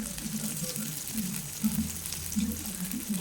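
Onions and green chillies with mustard seeds and lentils sauté lightly in oil for samai semiya khichdi, a soft continuous sizzle with faint clinks and stirring, fairly quiet and close.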